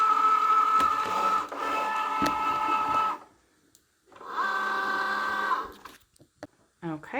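A Cricut cutting machine writes Christmas tags with a pen, whirring and buzzing in two motor runs separated by a brief pause, with clicks and soft knocks near the end.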